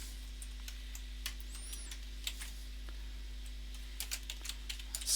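Scattered keystrokes on a computer keyboard, quiet and close, come in uneven clusters against a steady low hum, with a brief faster run of typing near the end.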